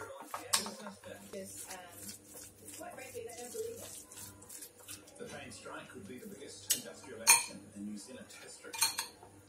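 Utensil clinks and scrapes against a bowl while tuna mayo kimbap filling is mixed, with irregular clattering taps close by and a voice talking underneath.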